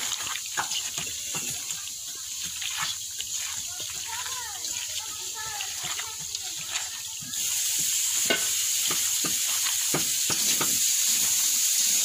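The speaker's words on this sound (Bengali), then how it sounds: "ওদিকে আলুও কষা হয়ে যাচ্ছে।" Potatoes fry in oil in a pan, making a soft, continuous sizzle with scattered crackles and ticks that grows louder and brighter partway through, under quiet speech.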